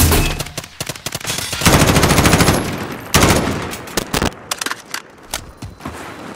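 Bursts of automatic gunfire in Modern Warfare, loud rapid volleys crackling close by with gaps between them, followed by scattered single shots.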